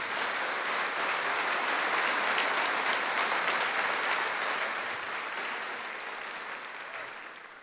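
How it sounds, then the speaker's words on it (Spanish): Loud, dense applause from a large church congregation, sustained throughout and gradually tapering off toward the end. "Den un aplauso fuerte al Señor."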